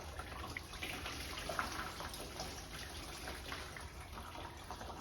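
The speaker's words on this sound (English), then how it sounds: "As you can hear all the coolant coming out." Coolant drains steadily from a 1.6 TDI engine with the water pump being removed during a timing belt job, a faint continuous trickling and splashing of liquid with a few small drips.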